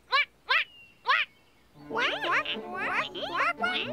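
A voice imitates a duck with three short nasal quacks, then a run of quacking sounds blended with speech-like calls, close and fairly loud.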